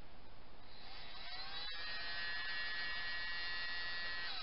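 A small 5V blower fan overclocked at 6 volts runs with a steady, high-pitched whirring buzz and tonal whine, constant throughout apart from a brief dip partway, with no talking.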